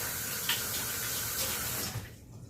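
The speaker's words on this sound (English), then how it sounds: "I've washed my hands." Hands are rinsed under a running bathroom tap, a close steady gush of water that stops abruptly near the end.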